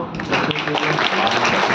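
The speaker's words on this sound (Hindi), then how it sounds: "ताली बजाओ।" An audience at a talk in Prayagraj claps together in a dense, continuous patter that stays fairly close and even for just under two seconds.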